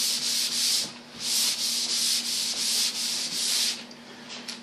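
Power sander working a flat test base material in steady close passes, a loud continuous hiss that swells and eases with each stroke over a constant motor hum, with no talking.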